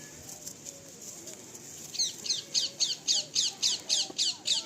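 A male Andhra pigeon squawks while being handled up close, giving about ten sharp, evenly spaced harsh calls in a steady rhythm over faint background noise.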